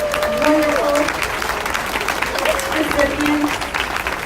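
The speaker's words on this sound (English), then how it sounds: "let's have one more round of applause for our wonderful" A crowd at a community breakfast claps steadily for award recipients, loud and continuous, while a voice rises briefly in tone over the clapping near the start and again toward the end.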